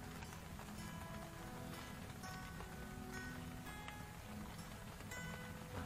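Light drizzle falls at night on a bagan fishing platform off Tanjung Kait. The rain makes a faint, steady patter that runs without a break and has no voices over it.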